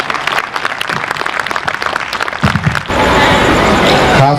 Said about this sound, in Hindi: आपकी तालियों के साथ उन्हें मंच पर आमंत्रित करता हूं